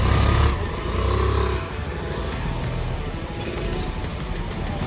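A scooter's engine drones steadily while riding a route, a low hum with a louder swell near the start, then an even, moderately close motor rumble to the end.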